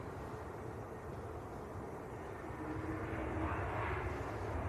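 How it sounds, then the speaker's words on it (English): An Airbus A321neo airliner at Manchester Airport gives a distant, steady jet rumble that grows slightly louder and brighter over a few seconds. "A321neo"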